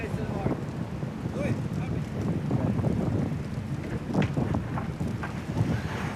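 Strong wind buffets the microphone in a constant roar at the Alicante start of The Ocean Race 2022-23 with VO65 yachts, with water sloshing and faint voices underneath.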